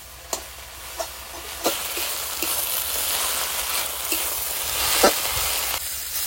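Leafy greens with a pinch of turmeric fry in a pan at a rural home, a steady broad sizzle under several sharp clicks and scrapes from stirring, with no voices.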